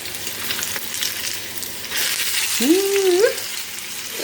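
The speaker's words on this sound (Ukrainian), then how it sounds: "Котлетки смажаться, вони швидко смажаться." Cutlets sizzling and frying in a hot pan, a steady crackle throughout, with a brief higher squeak partway through.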